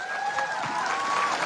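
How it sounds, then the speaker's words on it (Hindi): A crowd applauds and cheers for an elderly woman at a doctor's gathering, a steady wash of clapping with voices mixed in, continuous and moderately loud throughout. "ताली तो बजा दो अम्मा के लिए"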